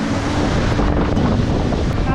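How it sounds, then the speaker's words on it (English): Jogini waterfall near Manali, a broad, steady roar of falling water heard up close, filling the whole scene with dense rushing noise and some wind buffeting the microphone. "Okay, that's the waterfall."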